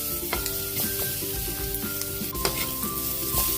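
Garlic frying and being stirred in a hot pan while pork batsoy is cooked, giving a steady loud sizzle with scraping stir strokes throughout and no talking.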